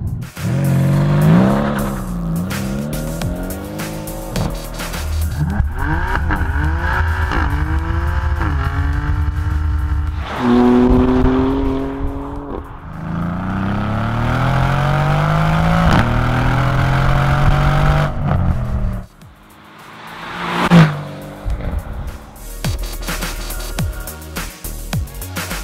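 A Mercedes-AMG C63 accelerating hard through several gears, its engine note rising in repeated sweeps with sharp shifts between them, loud and close, then a lull and a final burst of revs.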